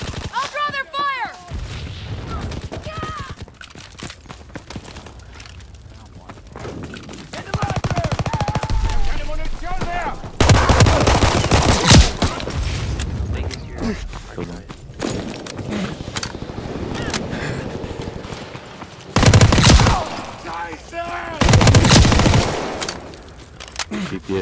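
Call of Duty WWII beta gunfire, bursts of machine gun and rifle shots with occasional booms, loud and close in several stretches, broken by game effects and a shouted line.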